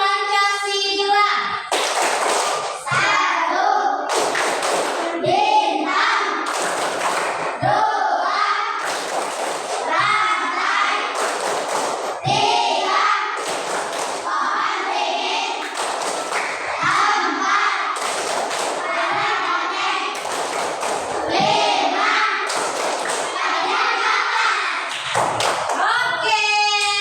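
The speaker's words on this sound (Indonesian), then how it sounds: "Tepuk Pancasila." Children in a classroom clapping the Tepuk Pancasila rhythm, loud patterned rounds of hand claps and thumps mixed with chanting voices, repeating in a steady beat with brief pauses throughout.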